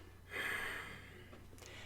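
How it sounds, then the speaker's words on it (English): A single constricted yoga-style exhale pushed out through closed lips, a soft hissing breath that swells quickly, holds for about a second, then trails off, heard close and alone. "when I breathe out, I kind of do that yoga constricted breathing that you can hear"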